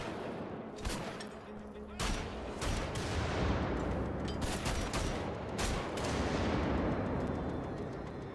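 Enemies blast shotguns in Wolfenstein: The Old Blood, a series of sharp, loud reports at irregular intervals, some in quick succession, over a dense rumbling battle background.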